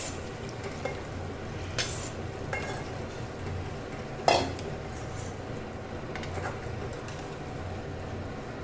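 Boiled chana dal being mixed with spices in a kadai, a low simmering sizzle with occasional metal spoon clinks and scrapes against the pan, close and steady with a sharper knock midway.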